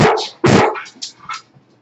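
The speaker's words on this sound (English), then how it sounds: "He barks, and then you bark back." A dog barks loudly and close by in a short run of three or four barks, the first ones strongest and the later ones softer, with no talking.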